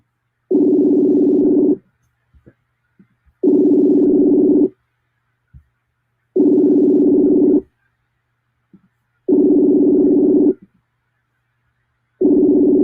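A phone call rings out unanswered as a steady tone repeating in long bursts, about five rings with short silent gaps between them, clear and alone.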